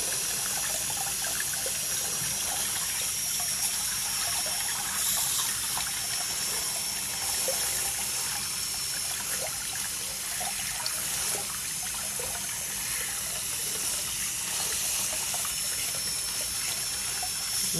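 Water running steadily into a sink while a placenta is rinsed, with a continuous close splashing rush and no pauses.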